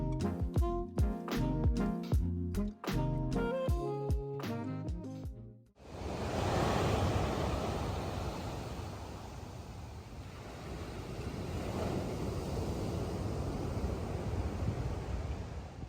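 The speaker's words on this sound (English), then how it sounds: "today I happen to be in California right by the ocean" Pacific ocean surf on the California coast roars as a broad steady wash of waves with gentle swells, heard alone after a short stretch of piano music.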